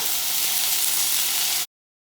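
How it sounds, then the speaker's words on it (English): Ground turkey fries in hot oil in a pan with a loud, steady, close sizzle that continues evenly for over a second before cutting off abruptly to silence. "I already have oil in the pan and it's nice and hot. And I'm just gonna add, I'm using turkey"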